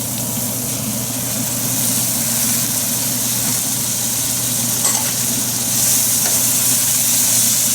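Tomatoes sizzling in hot masala in a pan for Indian chicken curry, a loud, even frying hiss with faint stirring and no voices.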